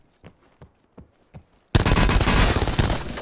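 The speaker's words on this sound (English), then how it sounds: "I have a Spitfire. I know this thing shoots out a lot of rounds" A Spitfire submachine gun in Call of Duty Black Ops gives four spaced single shots, then bursts into a loud, dense stream of rapid automatic fire that fills the rest of the moment.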